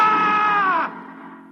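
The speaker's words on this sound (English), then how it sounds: "On the morning of June 15th, Guy Burkhart woke up screaming." A man wakes up screaming in a radio drama, one loud, sustained anguished cry that bends downward and breaks off into a lower, fading groan.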